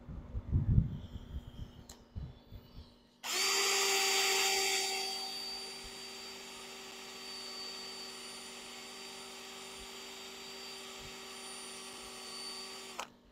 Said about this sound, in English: Sanding stuff on the lathe with this drill method does not take long at all.